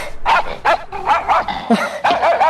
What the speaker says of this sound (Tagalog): Buisit na kitang aso